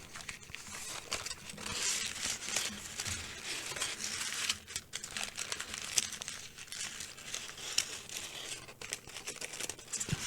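Thick paper being folded and creased for an origami two-headed dragon, giving dense, continuous crinkling and rustling close to the mic with scattered sharper crackles throughout, no talk.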